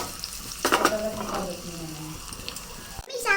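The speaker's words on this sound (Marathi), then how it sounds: "हे बघा चिमटभर हिंग आपण फोडणी टाकूया" A pinch of asafoetida dropped into hot oil for a tempering hisses briefly with a burst of sizzle and pan clatter, alongside someone speaking.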